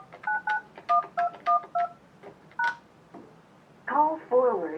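Keypad tones ring out on a Yealink T33G desk phone as an extension number is dialed, a quick run of about nine short beeps, then a voice prompt sounds near the end.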